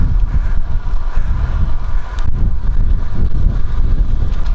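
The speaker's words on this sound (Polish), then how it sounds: "po prostu sobie posłuchajcie wiatru i popatrzcie" Steady wind blows across open hilly countryside near Potenza in Italy, a constant loud rushing roar with low buffeting gusts, heard alone without any talk.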